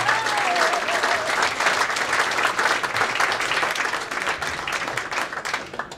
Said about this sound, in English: collective round of applause for this evening's top table